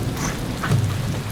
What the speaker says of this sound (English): We're going back as it started raining.